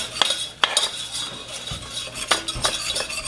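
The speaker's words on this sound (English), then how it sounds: "we've added our flour and we're going to stir" Utensil scraping and clinking against a pan while flour is stirred into a roux for béchamel sauce, sharp irregular scrapes and taps up close with no talk.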